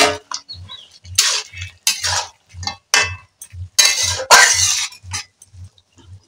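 Fried potato pieces tipped into a pot of braised goat-style kosha meat and stirred, giving a steady run of metal spoon clinks and scrapes against the pot, regular and close, with no talking.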